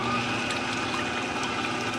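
Electric mixer with a whisk beating pudding cake batter in a bowl at home, a steady close whirring with wet sloshing that runs unbroken and fairly loud throughout.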